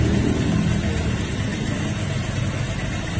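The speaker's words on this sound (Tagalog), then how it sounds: "dahil kakulangan yan sa grasa kung bakit tumiingay yung CVT natin" Honda Click 125 scooter engine idling with a noisy, under-greased CVT, giving a steady low rumble close by with no talking.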